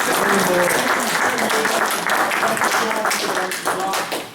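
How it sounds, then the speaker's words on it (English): Audience applause at a panel discussion, a dense, steady round of clapping that fills the whole stretch, with a few voices briefly audible beneath it. "let's give him a big round of applause."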